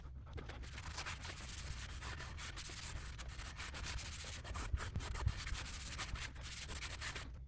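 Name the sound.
rubbing beeswax and mineral oil onto maple cutting board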